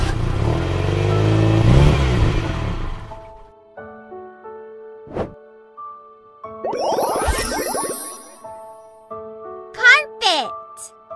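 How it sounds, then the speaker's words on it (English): A car engine revs in a loud broadband surge that fades out over a few seconds, then gives way to someone speaking and chiming, jingly toy sounds. "Car!"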